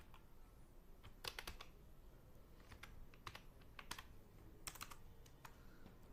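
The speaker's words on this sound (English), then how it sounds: "I'm just typing my email address and then just type my password" Someone types an email address and password on a computer keyboard to log into a Google account. The keys give a quiet, uneven run of soft clicks in bursts and short pauses, with no talking.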